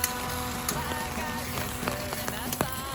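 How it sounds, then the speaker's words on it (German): Rain keeps up a steady broadband patter during a bikepacking trip in the Balkans, with scattered individual drops ticking close by over the constant hiss. "Man hört den Regen, hört man ihn?"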